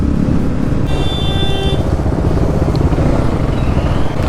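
A group of superbike motorcycles rides together in traffic, their engines a loud, continuous rumbling drone with a brief high whine early on and steady road noise throughout.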